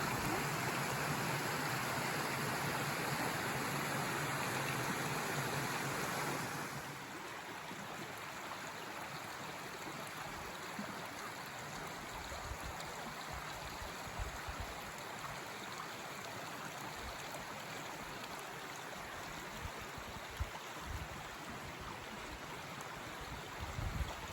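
Broadband rushing of a stream and waterfall on the climb near Zakopane, steady and continuous, loud and close at first, then a little softer and more even after the first few seconds, with no voices.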